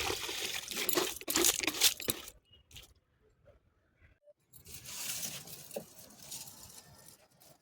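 Water poured over garden plants patters and splashes softly in two bursts separated by a near-silent pause, faint and close.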